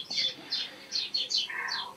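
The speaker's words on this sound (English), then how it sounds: "the birds here now, the sparrows are going mental" Sparrows chirp in quick, bright, repeated bursts outdoors, about half a dozen sharp calls over two seconds, fairly close and alone without talk.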